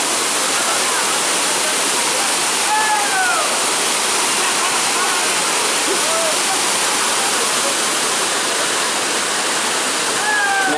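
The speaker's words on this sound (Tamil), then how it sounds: "செமையாக இருக்குங்க தண்ணி கொட்டுறதுக்கு." Water pours steadily down the Hogenakkal waterfall, a dense, continuous roar of rushing spray that fills the whole stretch without pause, with a few faint higher tones drifting above it.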